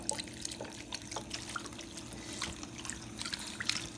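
Broth pours into a pot of collard greens, a faint, steady liquid trickle with light splashing over a low background hum.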